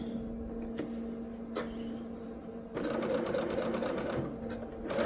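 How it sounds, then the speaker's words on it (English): Serger stitching quilt fabric with its cutting knife engaged, a steady close mechanical whir that picks up in speed and loudness midway and runs continuously to the end. "Now we're going to be sewing and cutting."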